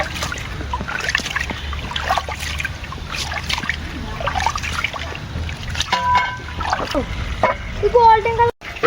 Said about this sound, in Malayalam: ഈ അരി നല്ല എല്ലാ അരിയും ഒന്ന് കഴുകിയിട്ട് വെള്ളത്തിലിടാം